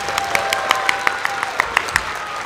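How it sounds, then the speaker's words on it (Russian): An audience applauds at a performance, its soft, steady clapping heard from a distance, with a few sharper individual claps standing out at regular intervals. "Ваши аплодисменты!"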